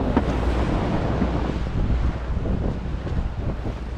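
Strong wind at sea buffets the microphone continuously aboard a fishing boat heading to the fishing ground, with waves and a low engine drone underneath; loud, steady roar with no speech.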